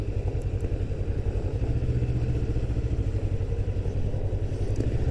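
Voge 350AC, a lightweight sub-400cc Euro 5 motorcycle, droning steadily at close range while being ridden, with a continuous low engine rumble and some light mechanical clatter and no talking.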